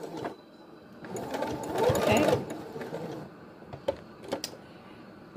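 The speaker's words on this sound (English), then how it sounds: "And I'm going to backstitch at that gap." A domestic sewing machine runs in short bursts while backstitching the gap in a fabric face mask, with a louder, steady stitching run in the middle followed by a few brief clicks and taps.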